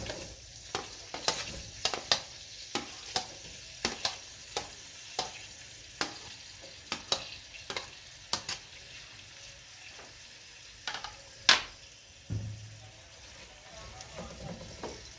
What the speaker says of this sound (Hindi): अभी अब इसमें प्याज ऐड करते हैं।